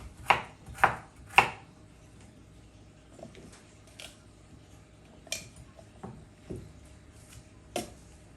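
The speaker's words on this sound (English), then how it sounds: "I'm just gonna chop my ginger a little bit smaller." A knife chops ginger on a cutting board: three quick, sharp strikes, then scattered softer cuts spaced out over several seconds.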